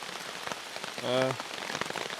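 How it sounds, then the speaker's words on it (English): Steady rain falls on a surface outdoors at a stealth campsite, a dense continuous patter with a brief tonal sound midway. "Well, still raining."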